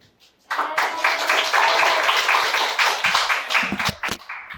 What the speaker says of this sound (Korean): 우리 큰 박수로 환영하고 하면 어떨까요?